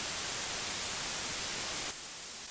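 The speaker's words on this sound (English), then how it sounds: "This is without noise shaping." Steady, even hiss of broadband dither noise without noise shaping, flat and unshaped, that drops slightly in brightness near the end.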